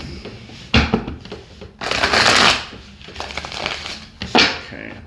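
Tarot cards riffle-shuffled in a few quick bursts, crisp papery flutters rising and falling close by, with brief quieter gaps between the shuffles.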